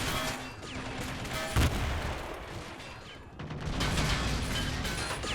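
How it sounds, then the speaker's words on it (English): Grenades burst and gunfire crackles in a war video game battle in Moscow, with bursts of shots, a sharp heavy blast midway, then renewed rattling fire, loud and dense. "Grenades are being thrown."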